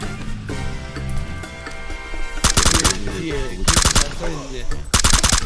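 Automatic gunfire in the video game PUBG Battlegrounds: sustained loud bursts of rapid shots in three separate volleys over background game music and noise.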